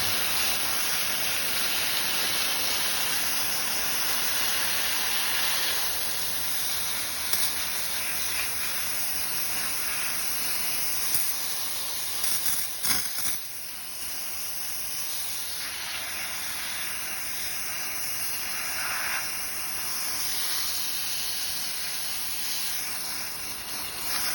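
A garden hose sprays water onto old wax honeycomb from cutouts, making a steady, close hiss that lasts throughout, with brief spattering bursts partway through.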